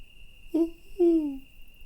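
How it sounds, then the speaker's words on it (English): An owl hoots twice, each call a low, clear, drawn-out note with a short gap between, close and fairly loud over a steady thin high whine. "it's just a freaking hootie owl"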